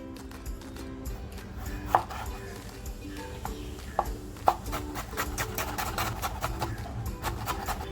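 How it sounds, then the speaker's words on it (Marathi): A knife chops food finely on a board, cutting prawn-stuffed pomfret ingredients with quick, steady strokes and a few sharper knocks, all over a busy background hum. "घेतलाय तो अगदी बारीक कापून घेणार आहे"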